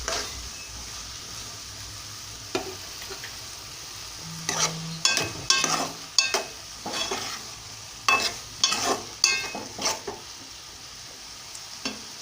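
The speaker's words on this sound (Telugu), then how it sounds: "చూడండి, బెండకాయను టమాటా బాగా వేగుతూ ఉన్నాయి" Okra and tomatoes frying in a pan, a soft constant sizzle broken by a series of scraping stirs that cluster in the second half, close and moderately loud with no voices.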